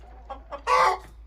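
Chickens and roosters of the Andijan black breed at a home poultry farm cluck in short bursts, ending in one louder, longer call close by, with no talking.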